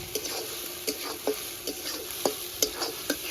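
Ground spice paste sautéing in a pan as it is stirred, with a steady soft sizzle and repeated scraping strokes spaced through the stretch, moderately close and without talk.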